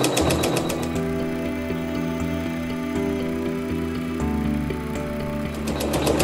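A sewing machine with an embroidery foot zigzag stitches through thick high-loft wool batting, a close, steady rapid mechanical whir and clatter running throughout without pause.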